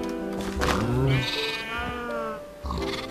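Sheep in the Minecraft video game bleat several times in quick succession, wavering and close, overlapping with someone talking.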